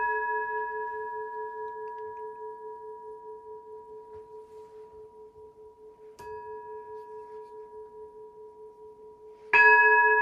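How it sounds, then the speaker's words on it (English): A meditation bell rings with a clear sustained tone that slowly fades, then is struck again around the middle and once more near the end, each strike bright and close, ringing alone in a quiet room. "Do you hear the bell?"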